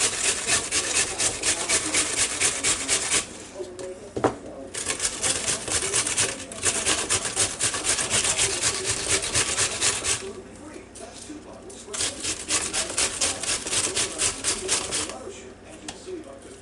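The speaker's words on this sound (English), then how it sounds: "when you grate an onion, the best thing to do is always use what they call the rough side" An onion is rubbed hard over the rough side of a kitchen grater, making steady rasping scrapes in long rhythmic runs with brief pauses, close and fairly loud.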